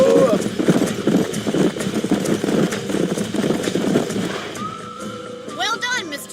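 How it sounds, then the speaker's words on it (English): Horse hooves clip-clop at an easy pace beneath overlapping conversation in the video game Red Dead Redemption, followed by a short whinny and a faint tonal chime. "These are fine horses."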